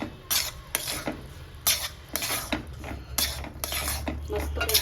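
A spoon stirs sugar syrup through motichoor laddu mixture in a metal pot, scraping and clinking in repeated close strokes with a faint low hum underneath.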